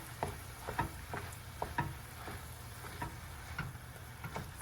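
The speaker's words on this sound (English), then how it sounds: "And we're gonna give it a nice good stir." A spoon stirs turkey bolognese sauce with granulated garlic in a pan, producing a soft, repeated scraping and tapping rhythm over a quiet low simmer.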